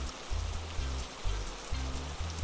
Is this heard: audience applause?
no